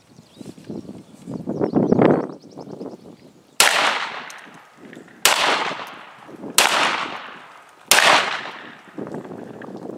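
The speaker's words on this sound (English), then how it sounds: "let's go ahead and get started and see how it cycles the Federal LE" A Beretta A300 Ultima Patrol 12 gauge shotgun firing Federal LE ammunition at a range lets off four loud, sharp blasts about a second and a half apart. Each booming report rings out briefly, and a short rustle of handling comes before the first shot.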